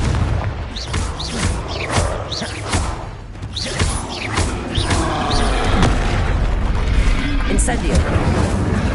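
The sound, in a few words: Confringo explosive spell blasts in Hogwarts Legacy video game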